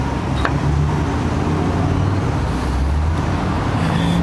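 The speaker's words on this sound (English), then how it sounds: "sorry about the traffic noise" Steady road traffic rumbling nearby, a constant wash of engine and tire noise with a faint passing vehicle, no talking.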